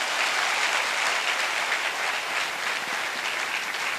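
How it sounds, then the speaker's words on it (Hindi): An audience in a seated meeting bursts into loud, dense applause that holds steady for several seconds, with no voices over it. "जोरदार ताली बजा दें भाई साहब फिर तो।"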